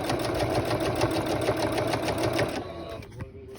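A sewing machine stitches along a seam in a steady, rapid mechanical whir with rhythmic needle clicks, running close and continuous before slowing and stopping near the end.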